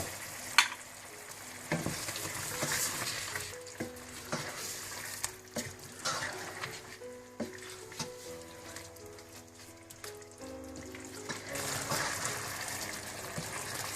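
Chicken and whole spices (black pepper, cinnamon, green and black cardamom, bay leaf, star anise, cloves and cumin) sizzle in a pot for degi chicken biryani. A steady crackling fry runs throughout, with occasional stirring knocks and scrapes.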